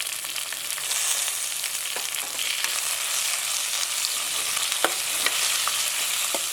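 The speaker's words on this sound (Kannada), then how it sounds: "ಈರುಳ್ಳಿಯನ್ನು ಸ್ವಲ್ಪ ಒಳ್ಳೆ ರೀತಿಯಲ್ಲಿ ಫ್ರೈ ಆಗೋ ಹಾಗೆ ಮೀಡಿಯಮ್ ಫ್ಲೇಮಲ್ಲಿ ಇಟ್ಕೊಳ್ಳಿ ಗ್ಯಾಸನ್ನು" Onions, garlic, ginger and green chillies sizzle steadily in a pan over medium flame, a dense continuous frying hiss with occasional stirring scrapes, close and alone without talk.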